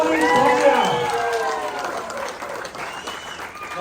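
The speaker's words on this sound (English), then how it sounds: "Imagine it's you coming up here and clap like how you want everybody to clap for you." An audience claps loudly at a 21st birthday celebration, a dense burst of applause that slowly fades, with voices and cheering mixed in.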